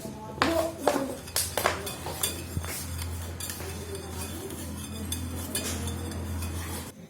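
Spoon stirring a shampoo and Eno mixture in a container: quick clinks and scrapes at first, then steady swirling scraping with a low hum, close up.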